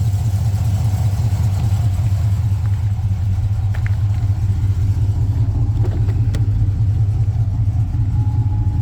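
A 2007 Chevrolet Trailblazer SS engine idles with a deep, loud, steady rumble close by, a low throb running unbroken throughout with faint clatter on top.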